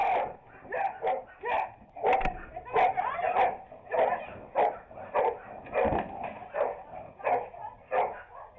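A dog barks at a delivery driver in a steady run of sharp, repeated barks and yips, a dozen or more bursts at moderate distance and fairly quiet.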